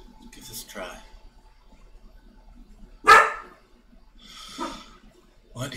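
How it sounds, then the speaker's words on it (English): A dog in a video game lets out a single sharp bark, close and loud, with scattered breathy snorts and soft puffs before and after it against a quiet game background. "What is this dog doing?"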